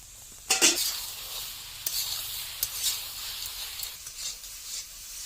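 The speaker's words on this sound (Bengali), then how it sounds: "ভালো করে নেড়ে ছেড়ে একটু ভেজে নিস" Cabbage tossed into hot oil and stirred in a pan in a Sundarbans village kitchen: a sharp burst of sizzling at first, then a gentler crackle with intermittent scrapes and spatters, close by and without speech.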